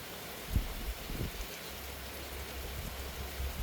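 Steady rain hisses down across the whole clip, with a few dull thumps and no one speaking; heavy rain in Italy.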